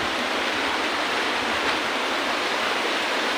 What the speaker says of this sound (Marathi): आणि ही दुसरी नदी आहे